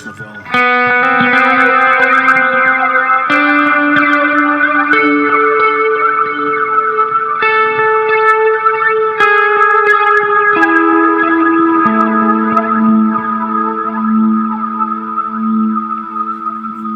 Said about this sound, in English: I've got a little bit of distortion as well.